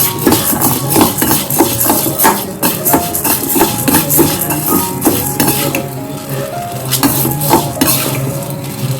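Whole urad dal roasts in sesame oil in a pan, with loud, close clinking and scraping of a spoon stirring against the metal and a light sizzle underneath.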